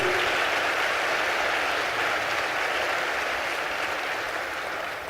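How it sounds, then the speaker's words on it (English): An audience at a Georgia town hall applauds its elected officials with steady, dense clapping that holds loud throughout and tapers slightly at the end, with no talking over it. "give them a great big round of applause"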